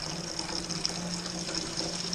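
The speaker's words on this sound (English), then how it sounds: "Then you let the wort drop in here fast." Wort pours fast into a fermenter during a 10-gallon home brew of vanilla coconut brown ale, giving a steady, continuous rushing gush of liquid throughout.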